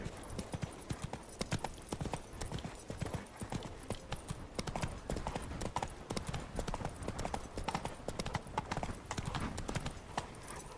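Roach, a horse in The Witcher 3, gallops with a steady, rapid clip-clop of hooves that keeps going throughout, close and fairly loud, with a brief whinny and other game sounds in the background.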